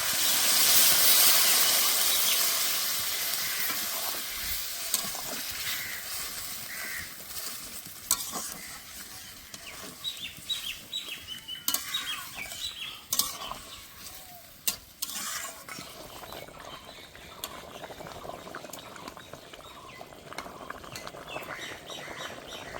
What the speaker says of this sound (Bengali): এবার জল দিয়ে দেবো, গরম জল দিচ্ছি।